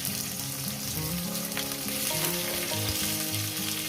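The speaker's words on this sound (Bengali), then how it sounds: "পেঁয়াজটাকে দিয়ে দিচ্ছি পেঁয়াজটাকে মিনিমাম আমি দু মিনিট একটু ভেজে নেব" Onions fry in a hot pan for a Bengali chicken curry, giving a dense, continuous sizzle and crackle at close range, with some faint stirring and no talking.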